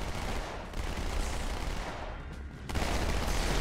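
Dual SMG automatic gunfire in Halo 2 Anniversary on Xbox One, dense continuous rattling bursts that stay loud and up close throughout, with a brief dip near the end before firing resumes at full intensity.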